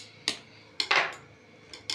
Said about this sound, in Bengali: এই ছুরিটা দিয়ে আমি মোরব্বা কাটছিলাম, নাড়িয়ে রেখে দেবো একদম